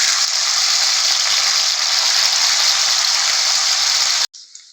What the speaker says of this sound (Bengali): এবার কাজু কিশমিশটাকে আমরা ঘিয়ের মধ্যে ভেজে নেব।